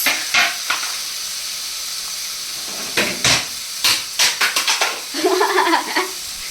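Two tomatoes hit a hot pan of turmeric-seasoned omelette curry base and sizzle with a soft steady hiss. Sharp spoon-and-pan clinks cluster in the middle, and a brief voice comes in near the end.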